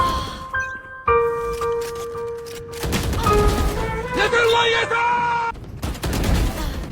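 Gunfire in the video game Valorant, with several sharp shots and bursts amid ringing game tones and effects, fairly close and loud, with no talk over it.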